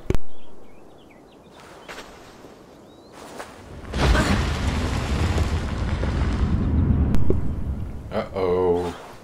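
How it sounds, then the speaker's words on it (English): A huge nuke-like blast erupts in Assassin's Creed Valhalla, a deep roaring rumble swelling up and sustaining for several seconds after earlier whooshes, with voices speaking around it. "Who's shooting nukes?"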